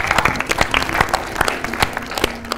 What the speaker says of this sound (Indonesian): tepuk tangan dulu dong untuk ITB.